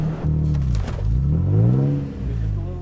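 An off-road vehicle engine in 4 low revs gently and rises and falls while backing up, with a faint clatter and a short voice heard over the steady mid-pitched drone.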